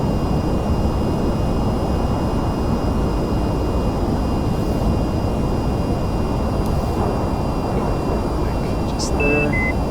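A jet aircraft engine at full afterburner roars in the VTOL VR flight game, a steady, loud broadband rush. It holds unchanged for the whole stretch, with a few faint electronic beeps near the end.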